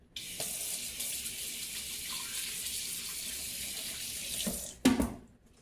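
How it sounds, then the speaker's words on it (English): Hands being washed under a running kitchen tap while salmon and vegetables are prepared, a steady close rush of water for several seconds that cuts off with a final splash and clatter near the end. "wash my hands again real quick"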